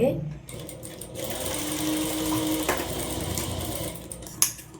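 A sewing machine stitches a one-piece umbrella frock with a steady, close mechanical whir and needle chatter, while a voice talks over it.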